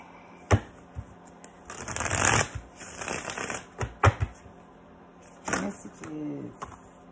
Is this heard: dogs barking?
no